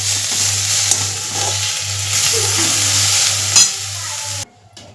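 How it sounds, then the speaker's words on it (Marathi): Onions and tomatoes roast in a pan as Marathi-style home cooking for a pea and mushroom masala, giving a steady close sizzle with occasional stirring scrapes and a hum beneath, before cutting off abruptly near the end. "टमाटे पण थोडेसे 2-3 मिनिट भाजून घेते मी"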